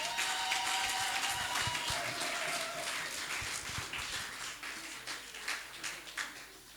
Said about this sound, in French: Bien-aimés, acclamons pour le Seigneur.